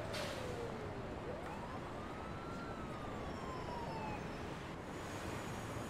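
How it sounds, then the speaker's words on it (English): A police siren wails in the Emergency 4 video game on a Kyiv city map, its sweeping rise and fall heard faint and distant over a low steady rumble. "That sounded like police."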